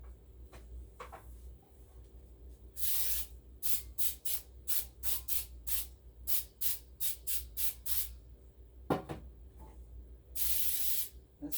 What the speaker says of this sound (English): So I sprayed hers a little